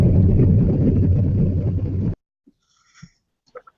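Traffic heard over a caller's phone or computer microphone, a loud, rough rumbling roar with wind-like buffeting that cuts off abruptly partway through, followed by near silence and a few faint blips.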